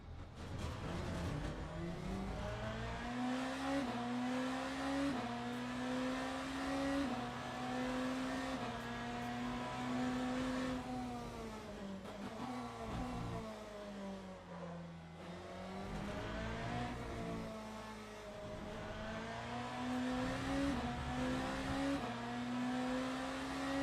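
Race car engine in the Le Mans Ultimate sim racing game, revving and shifting through gears continuously at steady, loud level, with pitch rising and dropping through laps and no talk over it.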